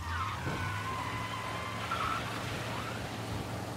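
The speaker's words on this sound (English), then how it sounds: "the engine is roaring, I'll be telling you." Car engine in Mafia: Definitive Edition roaring steadily as a low drone, with tires squealing and skidding in high wavering bursts over the continuous engine noise.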